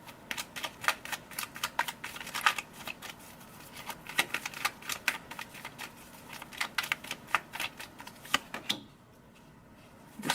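Tarot cards being shuffled and drawn in a quiet room: a steady run of crisp, papery riffles and flicks, close and clear, ending in a brief near-silent pause before one last soft card snap.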